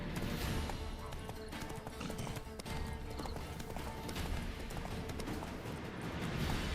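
Steady clip-clop of horse hooves trotting at an even pace in The Witcher 3, with a brief whinny and a busy game soundscape around it.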